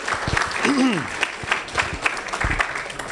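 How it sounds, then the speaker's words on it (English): Applause from a crowd, steady clapping that fills the space while a voice speaks faintly over it. "Let's give him a nice round of applause."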